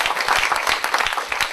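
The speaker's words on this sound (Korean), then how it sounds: "박수 한번 치십시오." An audience at a talk on a citizen-designed university campaign claps briefly, a short burst of dense, crackling applause.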